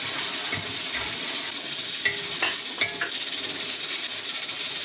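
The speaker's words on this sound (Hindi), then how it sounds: "तो अभी इस मसाले की हम बुनाई करेंगे तकरीबन 15 से 20 मिनट।" Mutton masala being roasted in a pan with red chili, white cumin and coriander, giving a steady close sizzle broken by a few light metallic clinks of a spoon against the pan.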